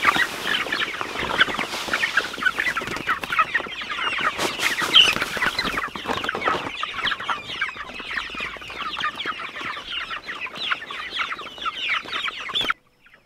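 A flock of hungry chickens swarms a trough of poured feed, clucking and chattering busily in a dense, continuous close-up racket that runs unbroken for the whole stretch before cutting off abruptly.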